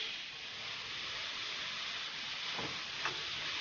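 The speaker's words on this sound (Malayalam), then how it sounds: "അത് നല്ലപോലെ ഈ ഓയിലൊന്ന് വഴറ്റിയെടുക്കാം." Onions sauté in hot oil in a kadai with a little salt, a faint, steady, even sizzle and hiss with a soft stirring knock near the end, no voices.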